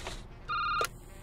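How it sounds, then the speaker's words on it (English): A telephone ringing in the video game The Security Booth, one short electronic ring burst, clear and close, with no voices over it. "phone's ringing, phone's ringing, phone's ringing"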